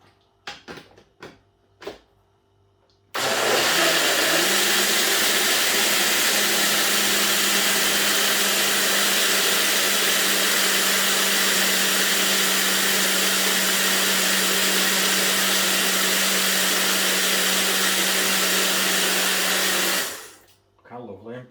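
A Magic Bullet blender runs steadily for about seventeen seconds, blending a strawberry banana smoothie, loud and close with a constant motor whine, beginning abruptly after a few small clicks of the lid.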